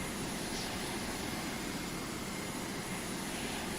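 In the naval strategy game Carrier Command 2, a plane's aircraft engine gives a constant, loud, broadband roar with no break and no voices.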